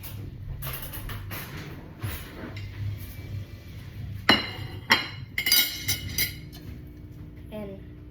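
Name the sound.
plate and fork being handled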